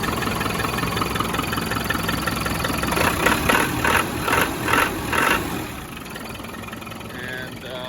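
A 1995 Land Rover Defender 90 with a 300Tdi diesel engine idles smoothly, a steady low chugging that continues throughout. A louder pulsing stretch comes partway through before the engine settles back to a quieter idle.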